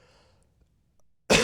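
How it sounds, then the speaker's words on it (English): A single short, loud throat-clearing rasp bursts out near the end after near silence. "I'm going to clear my throat now."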